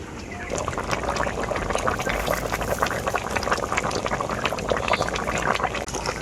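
Neem shukto broth with bori and eggplant boiling in a pot: a steady, close bubbling and gurgling with no talk.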